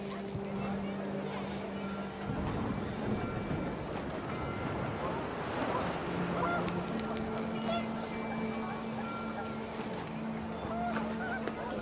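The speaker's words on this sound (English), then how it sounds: "The wind picked up, and panicked geese appeared and quickly went." Panicked geese honk repeatedly in What Remains of Edith Finch, a busy chorus of calls layered over steady wind and ambient game sound throughout, with a low droning tone underneath.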